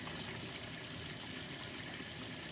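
Bell siphon in a Kratky-style gardening setup drains water, a steady hissing, gurgling flow of liquid pulling out of the grow bed, faint and continuous with no talk.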